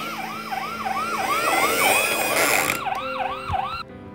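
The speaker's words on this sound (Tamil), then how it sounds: "Barbie ambulance வந்துருச்சுமா" A wailing ambulance siren sweeps up and down in steady repeated cycles, loud and close, with road vehicle noise underneath before it cuts off abruptly near the end.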